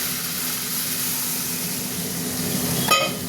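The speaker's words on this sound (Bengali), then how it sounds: "এবার আমি জল দিয়ে দেবো" Water goes into a pan of hot oil with fried potatoes and pointed gourd, giving a steady, even sizzle and hiss with a brief sharper burst near the end.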